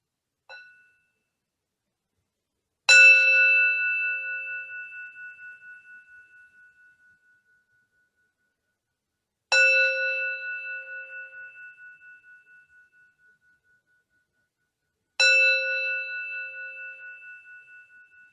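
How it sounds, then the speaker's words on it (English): A closing bell rings at a Buddhist Vesak service: three separate clear strikes about six seconds apart, each with a bright metallic tone that slowly fades in a long ring over silence, with no talking. "Now we'll have a closing bell."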